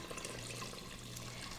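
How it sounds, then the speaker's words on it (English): Water poured into a pot of Trinidad and Tobago corn soup makes a steady, even splashing rush that runs close and continuous. "we're gonna top this up with some water"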